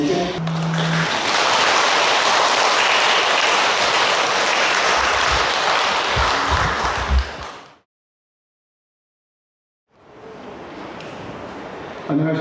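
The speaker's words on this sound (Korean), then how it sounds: "나오실 때 큰 박수로 부탁드리겠습니다" A church audience applauds as a guest elder comes up to speak, loud sustained clapping for several seconds, then a break of silence before more clapping resumes.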